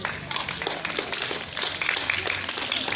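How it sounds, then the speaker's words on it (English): An audience applauds debaters at a school debate, a dense, even wash of many hands clapping continuously at moderate distance, with no voices standing out. "I would like you to clap for every one of them"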